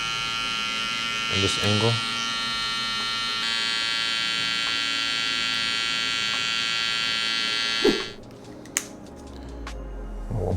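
An electric hair trimmer buzzes steadily close by while blending a barber's drop fade, someone talking briefly over it before the motor cuts off near the end, followed by a couple of clicks.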